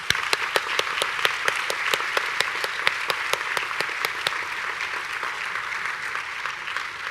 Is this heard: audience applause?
yes